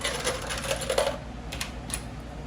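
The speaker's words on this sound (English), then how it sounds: "we're going to stitch up the side seam" A sewing machine runs up the side seam of a girl's dress with a rapid, steady mechanical chatter close by, with brief clicky accents throughout.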